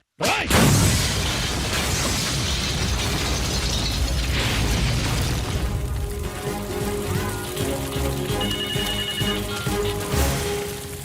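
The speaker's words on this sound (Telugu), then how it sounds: "బాంబ్ బ్లాస్ట్ గురించి ఎప్పుడు పేపర్లో చదవడమే సార్." A bomb blast in a Telugu movie climax scene: a sudden loud, close explosion bursts in and roars with dense rumbling debris for several seconds, then thins into lingering mechanical rattles and ringing tones.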